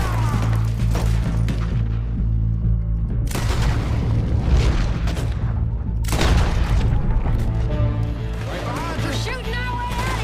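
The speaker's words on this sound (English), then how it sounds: "We're shooting our way out of here, boys!" Gunfire and booming shots in a Red Dead Redemption 2 shootout, with broadband bursts at about 3, 4.5 and 6 seconds over a steady low rumble, mixed with music and voices talking.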